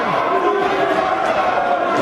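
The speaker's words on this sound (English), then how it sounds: "The American crowd showing a little bit of encouragement here." A steady, dense roar of crowd cheering fills an indoor pool match, the American section's encouragement holding at an even, loud level throughout without pause.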